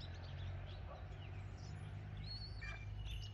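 A red-tailed hawk being flown in falconry training calls outdoors, its faint, thin screeches rising and falling over a steady low outdoor rumble.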